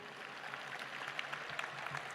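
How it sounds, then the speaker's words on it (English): Graduates at the LSUS spring commencement clap for themselves, a steady, fairly faint patter of many hands spread across a large hall, continuing evenly without voices over it. "clap for yourselves because you did it"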